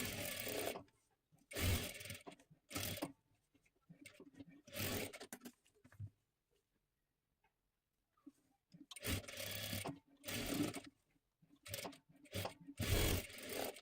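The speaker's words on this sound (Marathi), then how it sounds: "दोन्ही सुद्धा बाजू डबल शिलाई देऊन घ्यायची आहे." A sewing machine double-stitches the one-piece shoulder seam of a saree-fabric garment, running in several separate bursts of rapid stitching with pauses between them and a long quiet gap in the middle, close and clear with no talk.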